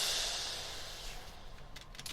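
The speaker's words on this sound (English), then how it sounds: "Just got a simple crash." A simple crash cymbal in a Punjabi drill beat rings out loud and close, then washes and decays smoothly over a low sustained bass tone, with faint light hits near the end.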